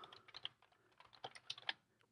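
Typing on a computer keyboard while entering a name into a free WordPress.com website signup, a quick run of soft close keystrokes with a few sharper clicks, alone in a quiet room.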